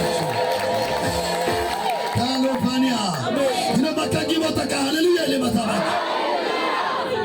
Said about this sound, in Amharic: እልልታ ጭብጨባ ለጌታ ክብር